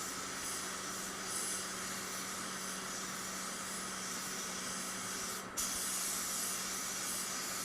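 A spray gun lays coarse metallic paint onto a door, giving a steady, close, continuous hiss that holds evenly throughout with one brief dip and restart, no voices present.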